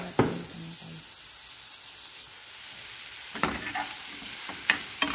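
Vegetables with alugbati and tuna fry in a pan, a soft continuous sizzle broken by a few sharp stirring clatters, no talk.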